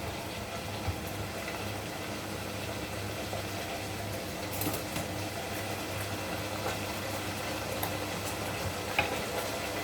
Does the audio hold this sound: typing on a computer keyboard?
no